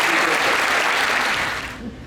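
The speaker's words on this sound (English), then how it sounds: "let's give a round of applause to our incredible people" Dense applause from a crowd honoring staff at a Miami supercar dealership, loud and steady across the whole clip before easing off slightly near the end.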